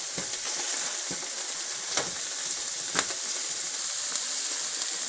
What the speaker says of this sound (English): I am using masher to mash the green peas in it.